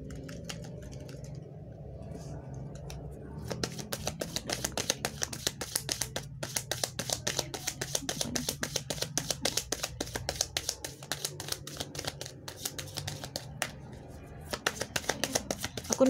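Cards are shuffled continuously for a tarot-style card reading, a rapid, crisp riffling and flicking that runs steadily for several seconds with brief pauses, close and moderately loud.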